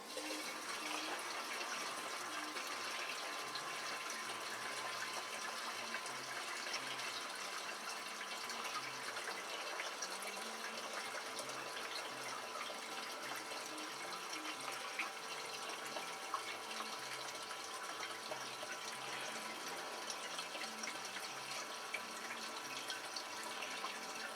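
A fuel pump from a BMW G650GS/F650GS motorcycle pumping liquid at several gallons a minute, a steady, even watery rush and gush like running water, continuous and fairly faint with no talking.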